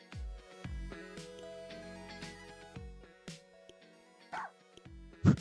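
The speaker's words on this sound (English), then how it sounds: "That's a dog?" Cartoonish dog barks from the rhythm game Rhythm Heaven Groove, a few short yips and woofs set into bright synthetic game music with beat tones, with one louder bark near the end.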